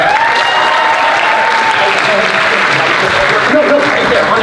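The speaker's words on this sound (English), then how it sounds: "Let's give a big hand for Isaac." Audience clapping greets a volunteer named Isaac at a youth improv showcase, a steady, full round of applause with light laughter and a voice talking over it.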